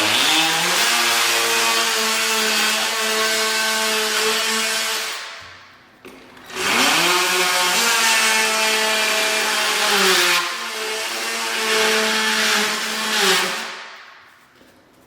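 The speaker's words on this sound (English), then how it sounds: "It's going to get just noisy again for a second, but we're going to use our multi-tool again." An oscillating multi-tool cutting through luxury vinyl plank flooring, a loud high buzzing whine in two long bursts with a short pause between, the pitch dipping as the blade bites in.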